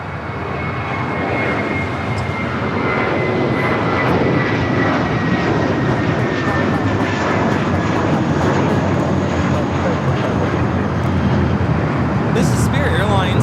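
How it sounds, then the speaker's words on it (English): A Spirit Airlines Airbus A320neo jet roars steadily and loudly as it takes off from runway 25R at Los Angeles International Airport, with a broad engine rumble and a rising whine and a commentator talking over it. "Already Spirit A320 Neo. Take it off, 25 right."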